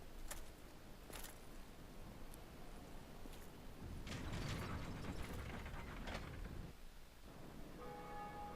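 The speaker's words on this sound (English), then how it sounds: "So let's pull this lever." A lever pulled in the undead church in Dark Souls sets off a soft mechanical clatter of ratcheting gears and clicks, a few sharp ticks over a low rumbling grind, faint and without talk.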